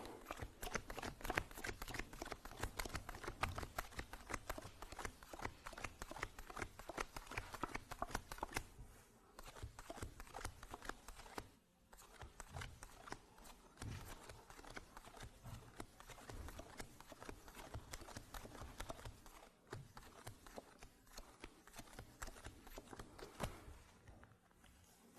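Playing cards riffle shuffled again and again, with quick crisp fluttering bursts in rapid rhythm, close and fairly quiet, broken by brief pauses, with no talking.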